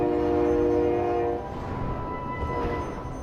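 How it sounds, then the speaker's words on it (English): A train passes close by, a steady horn tone sounding loudly for the first second and a half before the rumble of the rail cars carries on alone. "Please excuse the train if you can hear it."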